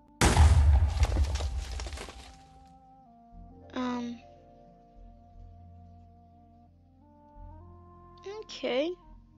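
In the Minecraft video game, a floating block of TNT goes off with a loud blocky boom that fades over a couple of seconds, followed by quieter game tones and a voice speaking a few short words.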